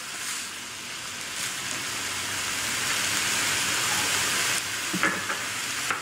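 Steady sizzling of minced meat frying in a pan, with stirring scrapes and a brief clatter near the end, continuous and close with no voices.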